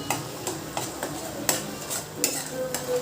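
Egg curry masala with garam masala and salt being mixed in a pan, a series of sharp spoon scrapes and taps against the metal at a rough regular pace over a soft sizzle, no voices.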